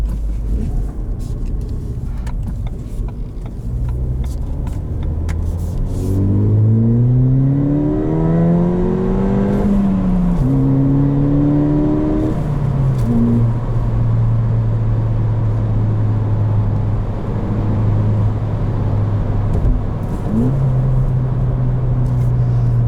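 A 2019 Ford Fiesta ST engine pulls hard through the gears while driving, its note climbing in pitch and dropping at each shift before settling into a steady cruising hum, loud and close throughout.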